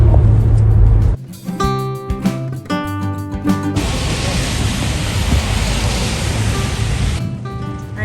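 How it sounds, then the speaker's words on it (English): Rain pours down around a car driving through Saratoga Springs on a wet day, a steady broad hiss of rain and road spray filling the cabin, with a brief muffled rumble and clatter near the start. "So we're just driving through Saratoga Springs on a rainy day."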